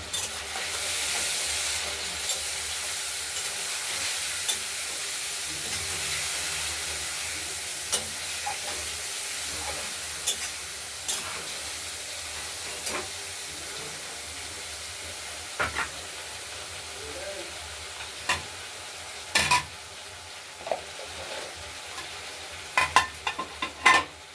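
Spice masala for a katla fish curry being sautéed and stirred in a pan, a soft continuous sizzle and hiss with occasional scraping strokes and clicks, fairly quiet, with no voices.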